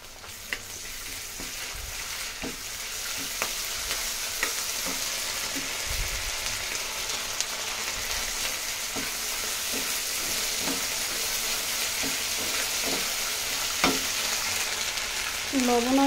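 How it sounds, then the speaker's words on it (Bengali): Ginger-garlic paste fries in hot oil while being stirred, a steady broad sizzle with repeated scraping clicks of the spoon against the pan, close and continuous throughout, no voices. "এখন হলো আদা রসুন বাটা দেবো"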